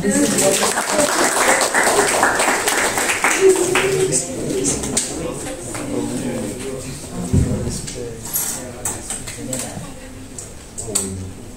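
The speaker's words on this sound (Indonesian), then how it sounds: "Tepuk tangan." Applause from students at a university class presentation on human rights, a dense clatter of clapping that gradually thins out, with voices talking over it.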